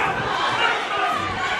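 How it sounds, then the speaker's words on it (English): A loud, dense crowd roars and chants continuously at a Rumble In The Jungle 21 fight event, a steady wall of massed voices with shouts rising throughout, heard close and without pause. "if you can hear this crowd behind me, they are cheering and chanting for only one man"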